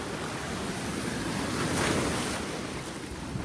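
Rough sea waves breaking on a beach, a loud continuous surf roar that swells in the middle, with wind buffeting the microphone and no voices.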